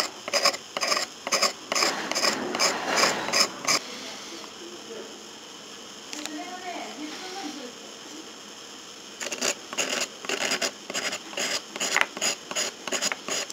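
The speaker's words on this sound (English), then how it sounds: "what I'm going to do is just shave some off here." Blade or file shaving a plastic model kit part of a Bandai Yamato into powder, close-up bursts of quick rasping scrapes in two runs with a quieter pause between, a voice talking briefly in the gap.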